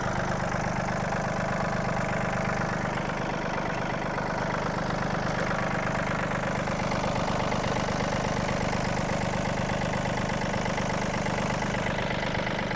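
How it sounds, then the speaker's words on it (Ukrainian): A Yanmar AF-26 mini tractor's small diesel engine idles steadily up close, a continuous low chugging rumble with no voices. "Двигунчик працює як годинник"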